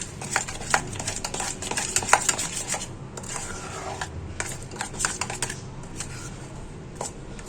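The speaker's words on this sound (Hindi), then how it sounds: "इसको अच्छी तरह मिक्स करेंगे।" Chicken being mixed with marinade for chicken curry, giving close clicking and clattering of a utensil against a bowl in irregular bursts, with a soft wet churning underneath.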